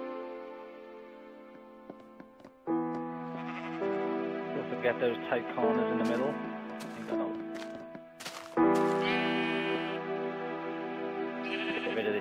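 Sheep bleating in Minecraft, a few brief game bleats mixed under steady talk and soft background music while a medieval house is built.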